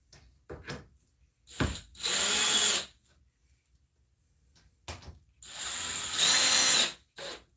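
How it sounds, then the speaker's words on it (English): Power driver spinning a screw down to tighten a clamp on a handmade bonsai pot, two loud whirring bursts of about a second each between quieter clicks and handling knocks, close and without talk. "now we gotta screw this one down so it clamps it."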